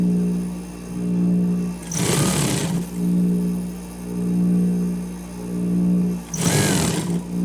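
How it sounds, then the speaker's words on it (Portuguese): Sewing machine stitching woven-fabric bias binding: a steady, close mechanical whir that runs in long even bursts, broken twice by brief louder rustles of the fabric being handled. "Eu vou abrir uma das abas dele e vou costurar exatamente em cima daquela marcação de onde ele estava dobrado."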